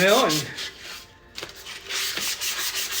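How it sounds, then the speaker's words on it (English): A tumbler cup is rubbed by hand with sandpaper to remove its shiny finish, giving repeated close scratchy strokes in bursts, with a short pause partway through. "when you order 40, 50 cups at a time or more, and you have to sand them"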